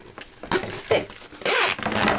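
A zipper on a sewn Scholar's Pack bag is handled during installation, giving a few brief rasping zips and rustles in short bursts close by.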